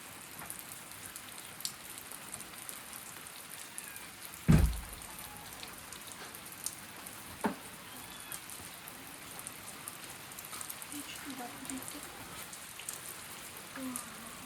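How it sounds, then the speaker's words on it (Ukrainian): Steady rain falls with a soft continuous hiss and patter, broken by one sharp thump partway through. "Ось і дощик."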